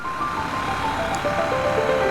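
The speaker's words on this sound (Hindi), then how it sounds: "अभी घर से निकलते ही इतना सारा ट्रैफिक देखने मिल रहा है" Road traffic outside a house in Mumbai makes a steady, dense hum of passing vehicles with faint tonal whines layered over it and no talking.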